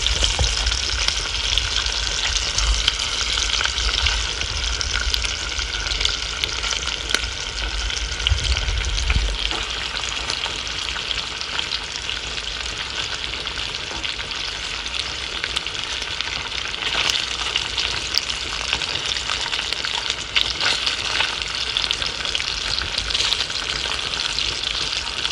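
Sliced saucisson frying in a pan until golden, a continuous close sizzle and spatter holding steady throughout with occasional louder crackles and a low thump near the start, no talking.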